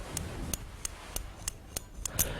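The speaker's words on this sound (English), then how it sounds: "That clicking sound indicates the mechanism of the switch is working." A Mr. Bulletfeeder micro switch clicks sharply and repeatedly, about eight crisp, evenly spaced clicks held close to the microphone in a quiet room.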